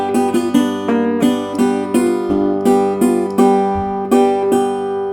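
Acoustic guitar in open G tuning plays a Delta blues riff in a crossroads style, with a string of clear plucked notes and brushed strums ringing out in a loose, steady rhythm, close and alone with no talking.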